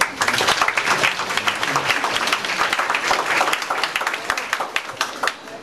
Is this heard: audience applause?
yes